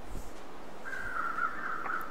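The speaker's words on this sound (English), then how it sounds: "Got some crows flying overhead, maybe to a dead body." Crows caw in The Long Dark wilderness game at sunrise: one faint, drawn-out caw sounds in the middle over quiet, cold ambient background, with no talking.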